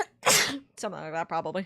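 A single sharp human sneeze bursts out near the start, followed by a person speaking briefly afterward.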